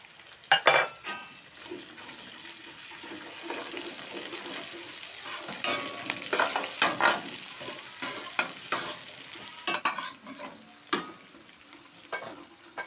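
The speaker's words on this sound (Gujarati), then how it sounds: "તો આપણે આમાં આદુ મરચા અને ડુંગળી નાખી દીધી છે તેલમાં પરફેક્ટ તળાઈ ગયો છે" Onion, grated ginger and green chili frying in hot oil for a Gujarati sev and onion curry, giving a steady close sizzle broken by repeated spoon stirring and scraping clicks against the pan, with no talking.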